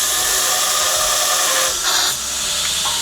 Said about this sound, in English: This Ameribraid belt grinder is